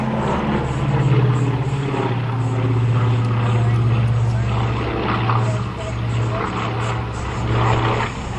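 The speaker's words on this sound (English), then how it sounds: "Here comes the aircraft again from your front right." A Lockheed Hudson World War II warbird passing at an Australian airshow, its steady piston-engine drone loud and sustained throughout, swelling slightly as it approaches, with a commentator speaking over it.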